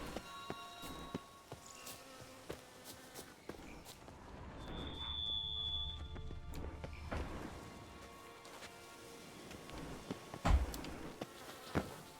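Insect buzzing in The Witcher 3: a faint, steady drone of flies or wasps over a quiet game ambience, with a brief high whine in the middle and a soft thump near the end.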